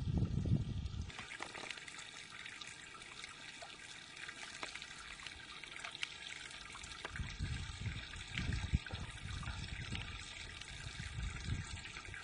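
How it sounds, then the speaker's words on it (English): Spring water running outdoors, a continuous trickling and splashing stream heard close, with steady bubbling texture throughout. "Looks like the spring is running pretty good now."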